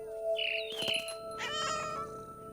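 A cat meows a few times in the video game What Remains of Edith Finch, short clear cries close up with a faint chime-like tone behind them.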